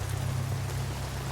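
Steady rain falls on rocks, a soft, even hiss with a low rumble underneath, continuous and moderately quiet.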